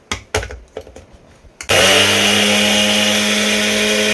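Mixer grinder grinding poppy seeds into a paste, a loud steady motor whir with grinding that starts abruptly after a few faint kitchen knocks and runs continuously to the end.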